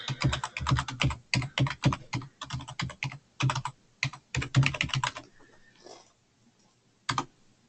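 Rapid clattering keystrokes on a computer keyboard in quick uneven bursts, close and clear, then a short pause and one final tap, with no talking.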